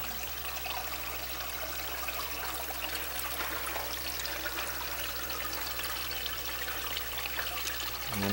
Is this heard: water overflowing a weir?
yes